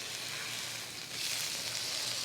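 A steak sears in a hot pan with an even, continuous sizzle that swells slightly partway through, steady and close with no speech.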